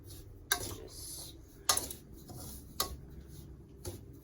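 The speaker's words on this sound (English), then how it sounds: "I want to keep stirring it so that it doesn't get burnt from the bottom." Upma being stirred in a pan, a spoon scraping and tapping the metal in four sharp, evenly spaced clinks over a low cooking hiss, close and fairly quiet with no talk.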